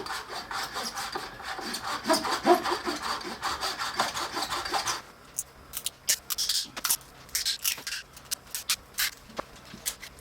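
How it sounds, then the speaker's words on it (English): A razor saw cuts tubing away from a mold in steady, close rasping strokes, first as a dense continuous run, then as slower, separate strokes. "figured that I would probably have more control with my razor saw, so that's what I'm going to be using here"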